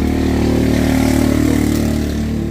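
A Skygo motorcycle engine runs loud and close in a short, steady burst, a throbbing mid-pitched rumble that holds even throughout without clear revving peaks, with no voices.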